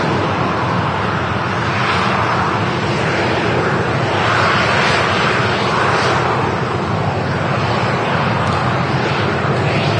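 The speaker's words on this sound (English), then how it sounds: "That was a 900 series A350." Airbus A350-900 airliner at Manchester Airport, its engines giving a steady, loud broadband roar that holds for the whole stretch without a break.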